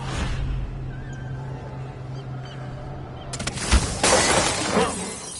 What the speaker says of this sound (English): like broken glass